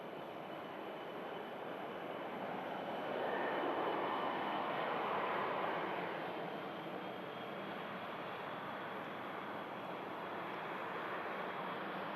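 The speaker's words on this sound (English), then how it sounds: "Beautiful BizJet on the taxi out as well" Business jet taxiing out at Manchester Airport, a steady distant engine whine and rumble that swells slightly midway, heard alone with no talk.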